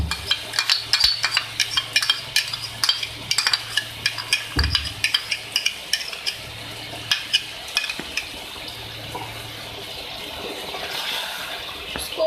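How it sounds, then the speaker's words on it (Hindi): Masala fried with yogurt sizzles in a pan for a potato and egg curry while a spoon stirs it. Dense, rapid scraping strokes sit over a steady frying hiss, close and loud, with no talking. "दही डाल के आपने भूनना है सही से।"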